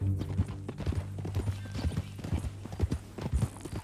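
Rhythmic clip-clop of a horse's hooves at a steady walking pace, close and clear, from the video game Red Dead Redemption 2, continuing without pause for several seconds.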